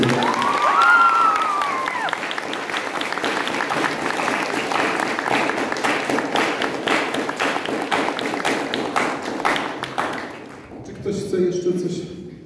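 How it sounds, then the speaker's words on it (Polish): Audience applause after a school theatre group's performance of "Tango", sustained loud clapping with some cheering that runs for about ten seconds before it thins out, with voices audible over the start and end. "Dla nich wielkie brawa."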